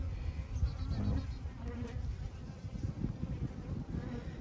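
Honey bees buzz around an open hive during a late winter inspection, a continuous close droning hum with individual bees flitting past, plus some wind noise.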